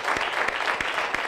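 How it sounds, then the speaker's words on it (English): An interview audience gives a round of applause, steady and fairly loud dense clapping throughout with no talking. "So we want to give you a round of applause for that."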